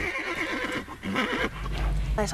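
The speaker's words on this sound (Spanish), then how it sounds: "los caballos comenzaron a resoplar y a encabritarse" Horses snorting and rearing near a campsite, with loud whinnies and neighs, snorts and some hoof clatter, heard close up as the animals grow agitated.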